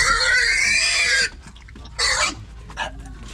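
Pig grunting and squealing on a farm, a loud harsh squeal up close followed by short gaps and two more briefer squealing bursts, alone without talk.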